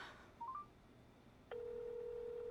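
A phone call being placed: a short run of rising keypad tones plays first, then after a pause a steady ringback tone begins and holds to the end, quiet and clean.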